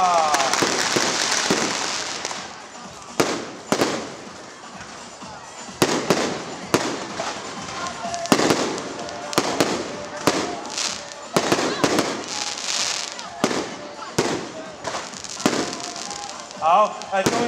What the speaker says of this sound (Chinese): 我们的烟火就可以放到12点了